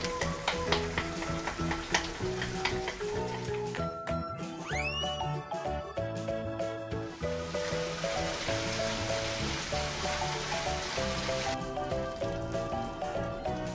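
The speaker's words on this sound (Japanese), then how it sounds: "沸騰してきたら鮭を加えて、あとはお箸でほぐしながら炒め煮るだけ。" Salmon simmering in a pan while being broken up with chopsticks, a steady sizzle and bubbling with scraping and clinking of the chopsticks against the pan, no talking.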